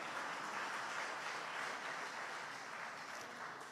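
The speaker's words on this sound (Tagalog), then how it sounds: "Malakas na palakpak para sa ating malapay." Loud, sustained applause from a congregation fills a church during a 32nd anniversary service, a dense steady wash of clapping with no talk over it.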